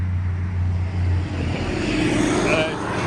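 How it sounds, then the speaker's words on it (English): A drone flying overhead gives off a loud continuous buzzing drone with a steady engine-like roar and slight pitch shifts, under which someone briefly talks. "here goes the drone."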